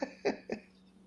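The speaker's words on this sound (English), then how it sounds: "Clearing my throat, getting ready." A person clears their throat twice in quick succession, two short rough bursts close to the mic, followed by quiet room tone.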